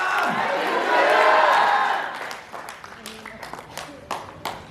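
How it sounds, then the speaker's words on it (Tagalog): A church congregation shouts together in a loud swelling roar that peaks and fades within two seconds, followed by scattered claps and small noises. "Shout hallelujah!"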